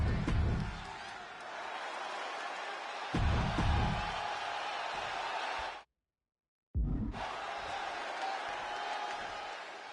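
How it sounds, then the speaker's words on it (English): Wrestling arena crowd noise from the WWE 2K26 video game, a steady broad roar with swells of louder cheering, briefly cut to silence before resuming just as loud. "And just listen to this crowd."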